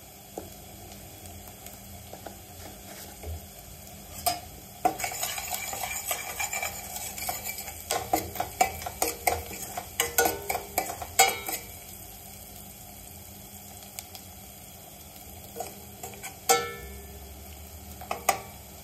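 Onion for poha frying in a pan and stirred with a metal utensil, with steady sizzling and irregular scraping clinks and taps that cluster in the middle and near the end.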